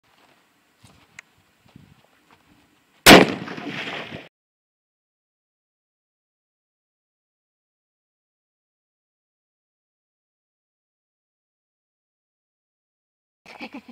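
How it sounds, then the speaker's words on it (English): A single loud, sharp 300 Win Mag rifle shot is fired at ice, with a short ringing decay, followed by long silence; faint rustling comes before it and light handling noise at the end. "Next, we're going to do the 300 Win Mag."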